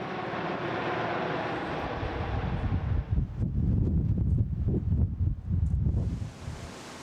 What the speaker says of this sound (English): along with their venerable Sea King helicopters